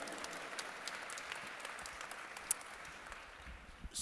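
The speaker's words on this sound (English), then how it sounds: "Go ahead and clap, because that was deep," Audience clapping at a live talk, a fairly soft, steady patter of many hands with a few sharper individual claps standing out, heard from some distance.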